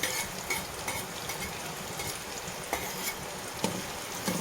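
Onions fry in a pan with a steady sizzle, while a utensil stirs them in soft scraping strokes with occasional sharper clicks against the pan.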